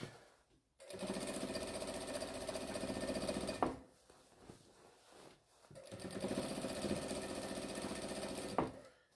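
A sewing machine runs in two long bursts, stitching quilt seams with a quarter-inch foot, a loud, steady, close mechanical whir broken by a brief pause in the middle.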